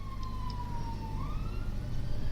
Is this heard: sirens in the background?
yes